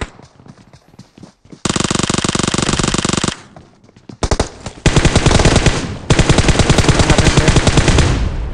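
Loud automatic gunfire from the mobile battle-royale game PUBG Mobile: short bursts, then long sustained rapid-fire strings with a brief pause and a weapon switch, close and punchy with no talk.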